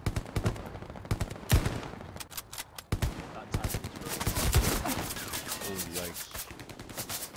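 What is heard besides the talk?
heavy gunfire in the video game Hell Let Loose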